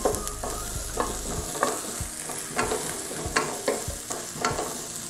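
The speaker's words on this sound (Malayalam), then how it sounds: "നന്നായി വഴറ്റുക." Onions and green chillies sautéing for beef kumbanadan, a close, loud sizzle broken by regular scraping stirs of a spatula across the pan, repeating every second or so.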